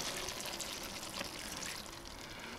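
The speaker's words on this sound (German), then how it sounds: "Jetzt tun wir hier nochmal ein ganz bisschen Flüssigkeit dazu. Das ist jetzt einfach nur Wasser." Water poured into red cabbage in a Dutch oven, a steady, close rushing splash lasting a few seconds with no talking.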